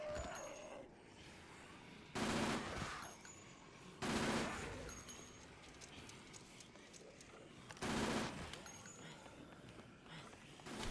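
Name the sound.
survivors' gunfire in the Dead Rising video game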